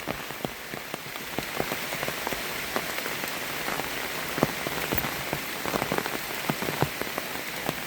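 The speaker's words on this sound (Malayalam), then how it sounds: "നിലവിൽ നല്ല രീതിക്ക് മഴ പെയ്യുന്നുണ്ട്" Steady rain falling on a pepper plantation in Ponmudi, Idukki, with a dense hiss and scattered sharper drops tapping on a surface nearby. No voices.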